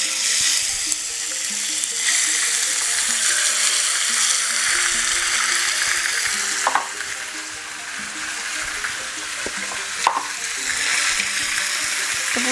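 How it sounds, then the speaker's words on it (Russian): Pork ham pieces frying in oil in a hot pan, a steady close sizzle and crackle with a couple of brief clatters as the meat is moved or stirred. "Сковорода уже над маслом нагрелась."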